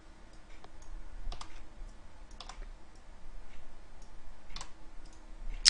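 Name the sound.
typing on a computer keyboard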